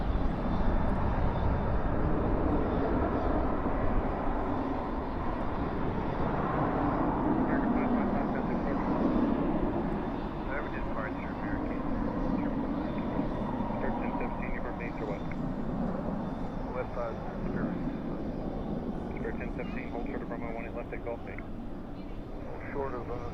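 Airliner taxiing toward runway 18 left at night at Dallas/Fort Worth International Airport, a steady jet engine rumble and whine heard from a distance, with voices talking and radio chatter over it.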